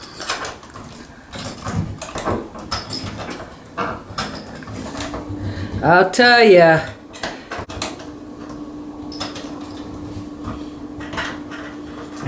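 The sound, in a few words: jammed door knob being worked on and fixed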